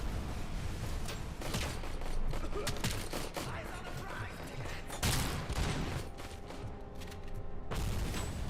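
Gunfire punching through a wall in the RoboCop video game, a sustained volley of rapid shots with a few sharper bursts, fairly faint and steady across the whole stretch.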